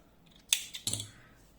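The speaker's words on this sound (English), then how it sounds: "First of all, I'm making one chain and cutting the yarn." Scissors snip through crochet yarn at close range, two crisp metallic clicks of the blades in quick succession in a quiet setting with no speech.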